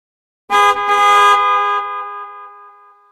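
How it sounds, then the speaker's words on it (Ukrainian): A single loud car horn honk, a short double tap then a sustained blare that fades out after a couple of seconds. "Правильно, діти, це автомобіль."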